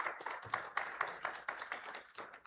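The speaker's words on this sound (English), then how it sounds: "Let's give it one more applause for them" A live audience claps at an entrepreneur meetup in Brownsville, Texas, producing a moderately loud, dense patter of hand claps that rises and falls in uneven bursts.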